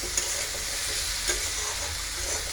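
Okra (bhindi) frying in a pan, a steady soft sizzle with faint scraping from stirring, close and even throughout and without speech.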